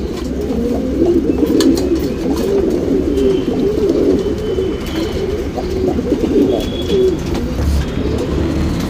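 Tournament pigeons coo continuously at close range, several soft, throaty rolling calls overlapping in a steady stream with no talking.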